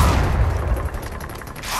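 Video game gunfire, a dense continuous fusillade of heavy shots with low booming weight, loud and sustained throughout without pauses.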